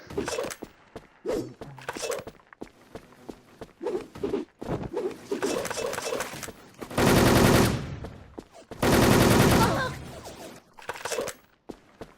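Rapid automatic gunfire in the Wolfteam video game, with two long loud sustained bursts following scattered single shots and footstep-like taps, close and dense, with some talk around it.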